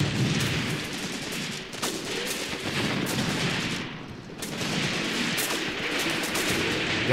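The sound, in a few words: PPSh submachine gun fire in the video game Graviteam Tactics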